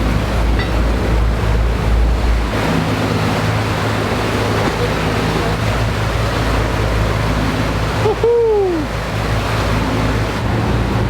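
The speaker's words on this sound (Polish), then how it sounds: "Są spore fale, zaraz wam pokażę." Heavy sea waves on the open sea at night, recorded from a boat, a constant loud rushing wash mixed with wind buffeting and a low engine rumble, with a short squeal near the end.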